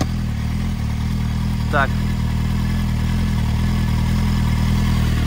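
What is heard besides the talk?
Kawasaki Z750 motorcycle engine revving and idling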